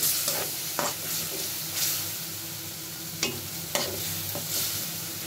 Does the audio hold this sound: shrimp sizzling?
yes